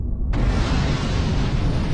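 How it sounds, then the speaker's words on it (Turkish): Nuclear explosion sound effect: a sudden broad blast that hits hard after a brief low rumble, then sustains as a loud, dense roar to the end, alone without voices. "Nükleer patlama."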